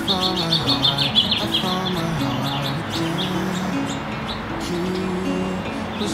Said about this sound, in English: The birds are back. I put seeds in the bird feeder.